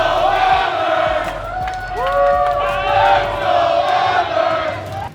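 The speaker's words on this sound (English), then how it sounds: "lots of Oilers fans making as much noise as they could too" A large crowd of Edmonton Oilers fans cheers and shouts continuously in an echoing arena concourse at Game 7 of the Stanley Cup Final, with whoops and rising yells over a steady roar.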